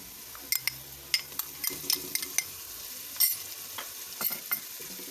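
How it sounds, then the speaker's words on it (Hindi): Ginger garlic paste frying with lightly browned onions in a pan, a soft steady sizzle under repeated sharp clinks and scrapes of a spoon stirring against the metal, heard close with no talk. "अब हम इसमें अदरक लहसुन पेस्ट डालेंगे।"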